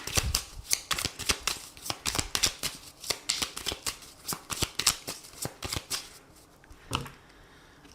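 Oracle card deck being shuffled and cut by hand, a rapid run of crisp riffling snaps and flutters close to the microphone, thinning out near the end with one last sharp slap.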